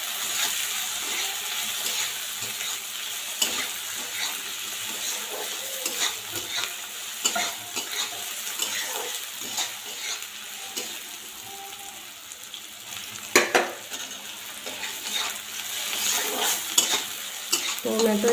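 Tomatoes sauté in a pan for Maharashtrian kande pohe while a spoon stirs them, giving a soft, continuous sizzle with scraping strokes and occasional clinks against the pan, close and steady, with no one speaking.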